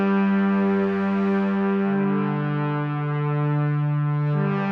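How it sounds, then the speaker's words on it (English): A sustained cinematic brass pad from the Synth GPT synthesizer, layered with orchestral brass, holds rich, steady chords that shift once midway, loud and alone with no voices. "So I layered the orchestral brass with this cinematic brass pad in Synth GPT."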